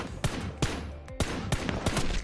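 Gunfire in the shooter game Ring of Elysium, several sharp single shots spaced irregularly over a couple of seconds, fairly close and punchy against a quiet background.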